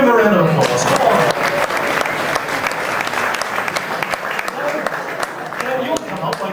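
A theatre audience claps steadily for several seconds, a dense, loud wash of applause, with voices coming through the clapping at times.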